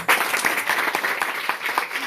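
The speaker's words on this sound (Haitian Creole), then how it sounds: "applaudissez le Seigneur pour lui." A church congregation claps together in a rapid, steady rhythm, the sharp claps close and lively for the whole stretch with no voices on top.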